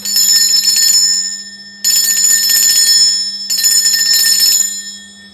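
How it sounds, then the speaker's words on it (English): A bell rings loudly three times in a row, each bright metallic strike ringing out close by and slowly fading before the next, used to cleanse the space, with no talking over it. "I am going to be ringing a bell. This is to cleanse the space around us."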